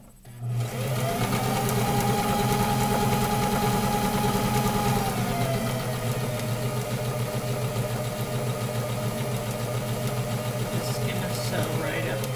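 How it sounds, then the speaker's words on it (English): A sewing machine stitches fabric with a steady, close mechanical whir that starts right away and runs almost unbroken to the end. "And then we'll sew along here."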